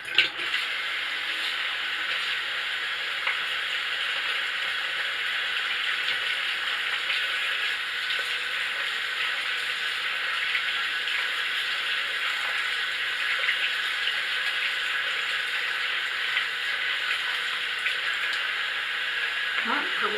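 Tap water runs steadily and fairly loud while a brush is rinsed clean of a bamboo charcoal peel-off mask, a continuous close hiss with a brief change near the end.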